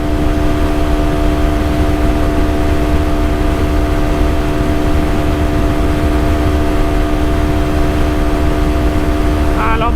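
Galaxy NH250 motorcycle engine pulling hard in fourth gear, a loud steady drone with a sustained rising whine, heavy wind rush throughout, no voices.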